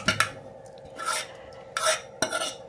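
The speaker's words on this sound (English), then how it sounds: "once it's mashed nicely, now we are going to transfer it back again into the dal" Spoon scraping and stirring mashed dal in a metal pot, a few rough swishes and a sharp clink or two, close and moderately loud with no talking.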